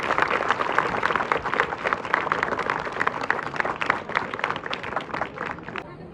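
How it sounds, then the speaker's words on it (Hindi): Audience applause at a school retirement honour ceremony, a steady patter of many hands clapping at close range for several seconds, with some voice mixed in. "एक बार जोरदार तालियां बजाइए।"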